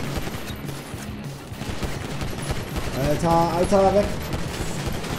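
Rapid gunfire in GTA 5 Online during a last-team-standing match: sustained automatic shots and bursts rattle on throughout, mixed with game noise while excited players shout over them.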